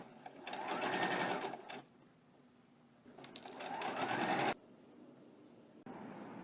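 Sewing machine stitches dress pieces in two bursts of steady whirring a few seconds each, close and clear, with short pauses between them.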